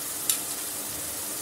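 Peanuts frying with turmeric, salt and black pepper in a pan for vegetable rawa upma, a steady close sizzle with a brief scrape of stirring near the start.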